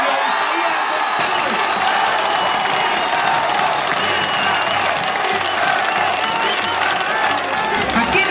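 A political rally crowd in Baja California Sur applauds and cheers for a speaker, dense clapping mixed with whoops and shouts, loud and continuous throughout.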